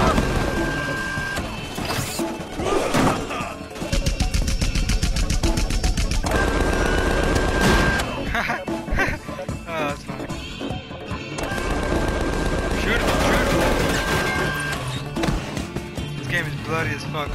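Bursts of machine-gun fire and scattered gunshots in the Tales from the Borderlands video game, with loud rapid volleys mixed with crashes and game music while characters talk over the shooting.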